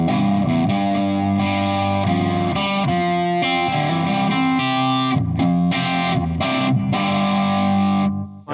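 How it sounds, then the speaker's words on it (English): Electric guitar played through a fuzzy distortion overdrive pedal rings out continuously, chords and riffs with a thick, full low end, loud and close with no voices. "it's a kind of a fuzzy distortion, but it cleans up good, and it has a really nice bottom end"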